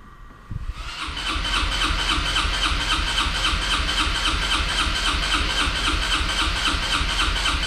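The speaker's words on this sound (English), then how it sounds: "On these here you have to apply the back brake to get the starter to turn." A motorcycle's electric starter motor turns over on a first start after a long lay-up, a loud, rapid, even whirring grind that kicks in sharply after a brief click and runs on steadily without catching.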